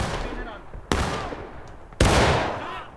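Two loud single musket shots in a War of Rights battle ring out about a second apart, each with a sharp crack and a long decaying echo over a busy background of battle noise and voices.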